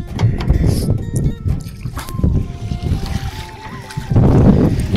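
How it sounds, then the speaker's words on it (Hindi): A boat carrying a passenger and a loaded motorbike sets off across a wide lake at Kopa in Munsyari, Uttarakhand, with close bumps, splashing and water churning, gusts of wind on the microphone, and a faint tonal whine throughout. "अब चल पड़ी हमारी नाव।"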